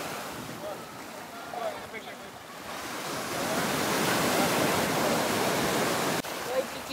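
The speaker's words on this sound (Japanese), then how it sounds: "波もあるけど全然、ワイキキビーチは結構波強いから穏やかやな" Ocean surf on a Hawaiian beach, a steady broadband wash of breaking waves that swells louder after the first few seconds and rolls on continuously, with no talk.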